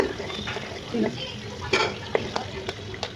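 Pre-fried cauliflower, beans, carrot and potato tipped into hot oil for a paneer biryani, sizzling close by with a few scraping stirs and clacks of a utensil against the pan.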